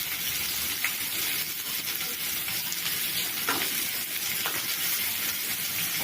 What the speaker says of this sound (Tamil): வெங்காயம் போடுறோம். பூண்டு, மிளகாய்,